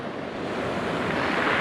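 Sea water surging and washing over a small concrete pad at Berrow Beach, a steady broadband rush of surf with wind noise, loud and continuous throughout.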